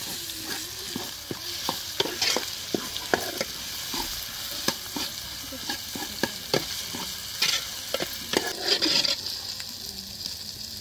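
Ginger garlic paste fries in a pan of mutton with drumsticks, a spoon scraping and clinking in frequent irregular strokes over a continuous sizzle, close and fairly loud, no talking.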